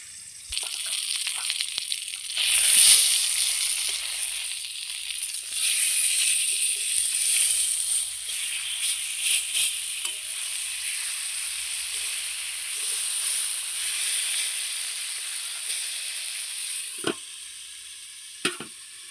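Eggplant slices frying on low heat in a little oil for begun sundori, a continuous bright sizzle and hiss up close, swelling and easing across the stretch, with a few sharp clicks near the end and no speech.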